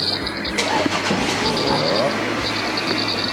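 A car drives past on a town street in France, its steady engine rumble running continuously against a background of outdoor ambience.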